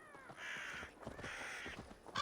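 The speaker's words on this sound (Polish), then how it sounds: "Kruki jakieś..." Ravens cawing in the video game Assassin's Creed Valhalla, several harsh repeated caws close by over a steady ambient game backdrop, with no talk.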